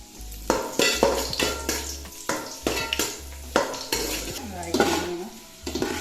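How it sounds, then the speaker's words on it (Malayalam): Raisins frying in two tablespoons of ghee for Palakkad-style chicken biryani, a soft sizzle broken by repeated clinks and scrapes of a spoon against the pan, close and without talk. "ഉണക്കമുന്തിരി ഫ്രൈ ചെയ്തിട്ട് മാറ്റി വയ്ക്കാം."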